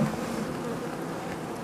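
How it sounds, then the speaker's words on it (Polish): Robbing honeybees buzz around a Podkarpacki Buckfast hive in an apiary, giving a continuous, soft hum of many insects in flight, low and fairly faint, with no voices. "Już pszczoły rabujące się kręcą."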